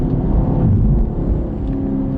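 2017 Chevy Camaro SS V8 driving on a race track, a loud, close, steady engine drone and rumble heard from inside the car, holding at high load with slight dips, no talk.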